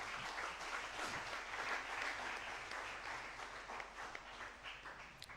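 Church congregation applauding and cheering to acclaim Jesus during a French-language sermon, a steady, dense wash of clapping from a crowd that holds evenly for several seconds.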